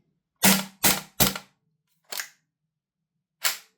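A B&T GHM9 gas blowback airsoft gun fired with a KSC magazine, giving five sharp, close reports: three quick shots, then two spaced single shots, the later ones weaker as the gas runs low.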